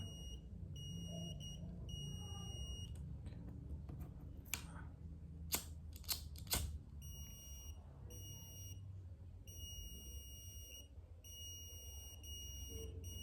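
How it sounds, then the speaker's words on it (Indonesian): Repeated high-pitched electronic buzzer beeps from a fire-detection sensor in short regular bursts, fairly quiet, with a brief cluster of sharp clicks midway and no voices. "Buzzer akan berbunyi dan lampu LED akan hidup."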